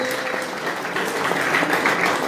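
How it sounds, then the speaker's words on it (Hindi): A crowd at a pigeon club prize-giving ceremony in Haripur claps in steady, dense applause, fairly loud and continuous, with some voices faintly underneath. "आखिरी दफा तालियां इस चैंपियनशिप के लिए।"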